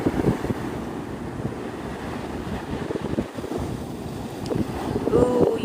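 Wind buffets the microphone on Navarre Beach at sunrise, a steady rushing roar with gusty swells, surf faintly beneath and a brief voice near the end.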